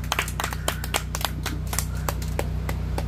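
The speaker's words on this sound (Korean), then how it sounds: "듣고 싶은 사람만 박수 한번 주시면 대단히 고맙겠습니다" An outdoor audience at a pumba folk performance on the Daemyeong port waterfront claps in a scattered, irregular rhythm over a steady low hum of background music.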